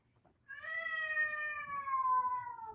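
A house cat lets out one long, drawn-out meow that sinks slowly in pitch, clear and fairly close, starting after a brief quiet moment.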